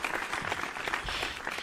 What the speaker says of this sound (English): I'm going to give you another round of applause for that.